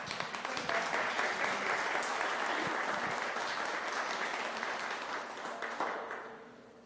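A room full of audience members applauds after a speaker is introduced at a magazine presentation panel, a dense, even clatter of clapping lasting several seconds before tapering off toward the end.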